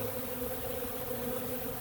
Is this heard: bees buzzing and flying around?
yes